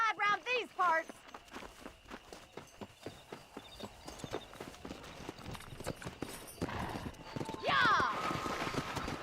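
A horse gallops in Red Dead Redemption, a fast, loud clip-clop of hooves with a whinny near the end, as someone shouts excitedly over it.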